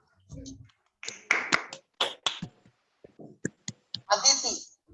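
Students in a Grade 6 English class clap their hands in short bursts one after another, each round a quick handful of sharp claps, spaced out with brief silences between them.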